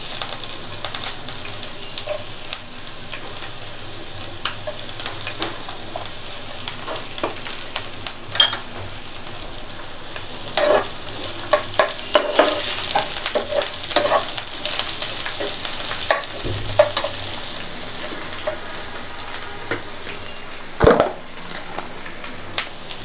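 Garlic and green chilies frying in a pan for a taro-stem greens dish, a constant crackling sizzle broken by sharp clacks and scrapes from stirring, with faint splashy running-water noise at times and no speech.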